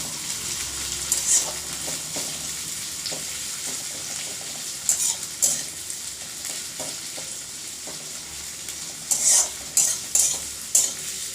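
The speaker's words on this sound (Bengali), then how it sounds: "পেঁয়াজ কুচিগুলো লাল লাল করে ভাজা হয়ে গেলে টমেটো কুচিগুলো দিয়ে দেবো।" Chopped onions frying in a pan, with a continuous sizzle under repeated scraping stirs and several sharp utensil clatters against the pan, close and fairly loud, no talking.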